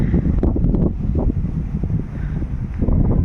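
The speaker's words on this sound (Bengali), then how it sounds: "আর উত্তরে হাওয়া ছেড়েছে দেখুন" A strong, cold north wind blows across the dry bed of a river in the Sundarbans, rumbling heavily into the microphone as loud, continuous gusts with no voices.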